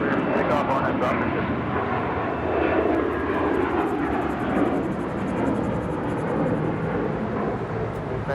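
A jet airliner takes off from runway 25 right at LAX, its engine roar a steady, broad rumble heard from a distance, with radio voices faintly present throughout.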